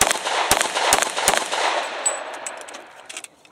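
Three sharp, loud gunshots in a tactical shooting drill with an H&K USP pistol, evenly spaced at the start, followed by fainter clinks and small impacts as the echoes fade.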